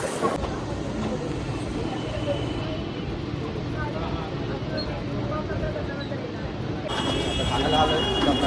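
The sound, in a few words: train arriving at station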